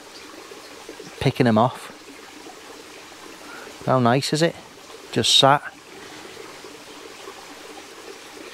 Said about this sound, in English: Nothing but the sounds of the brook.